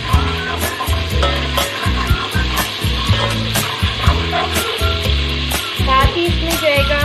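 Ginger garlic paste frying in hot oil in a pan, a continuous close sizzle with crackling pops and stirring scrapes, steady and fairly loud, with faint music underneath and no speech.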